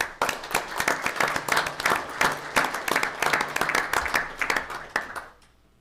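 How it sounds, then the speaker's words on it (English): Applause at a school board meeting as a Fremont High School guest is welcomed: a room of people clapping steadily for about five seconds with scattered voices, then fading out. "Give her a round of applause."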